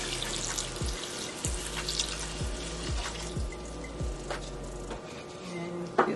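Broth pours steadily into a pot of cream of broccoli soup, a continuous close watery splash with a few soft knocks and drips throughout, ending with a brief clatter.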